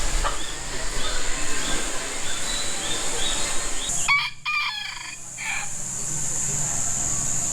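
A rooster at a tropical homestead pub crows loudly and nearby over an outdoor background hiss, followed by a sharper burst of clucking-like calls and a short disturbance partway through.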